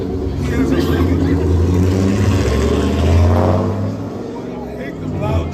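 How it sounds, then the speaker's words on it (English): A loud truck engine drones and revs up close, swelling to a peak and then easing off, with someone talking over the noise. "I hate them loud trucks."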